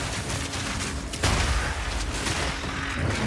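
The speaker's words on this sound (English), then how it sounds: "Explosion." A burst of explosive gunfire-like blasts from the video game Path of Exile 2, with a sharp boom around the middle and rapid crackling impacts continuing loudly over busy game noise.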